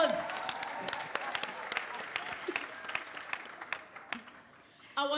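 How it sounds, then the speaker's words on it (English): Audience applause at a women's leadership panel, scattered claps building into a crowd round that thins out, with a voice breaking in at the end. "Give her a round of applause."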